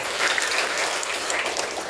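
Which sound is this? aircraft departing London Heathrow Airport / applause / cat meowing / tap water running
applause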